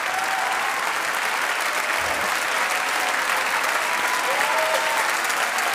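Recorded applause from a concert played back in a hall, a steady wash of many hands clapping at moderate loudness with no pause.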